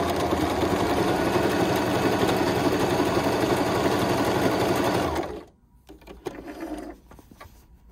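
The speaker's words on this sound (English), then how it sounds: "So if I want that zigzag, you just turn it, and that's what it's going to sew." A Singer Start 1304 sewing machine sews a zigzag stitch with a loud, steady, rapid mechanical whirr and clatter that stops abruptly near the end, leaving faint handling noises.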